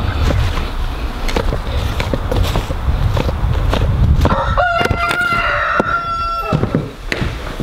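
On a homestead a rooster crows, its long harmonic calls rising clearly in the second half over steady outdoor noise, shuffling footsteps and a few clucks.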